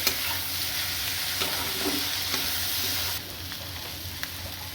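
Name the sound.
stirring ground sesame paste while frying in a pan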